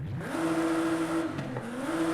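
A Nissan GT-R R35 with a race exhaust in Forza Horizon 5 roars loud and close, holding a steady high rev before dipping briefly and climbing again.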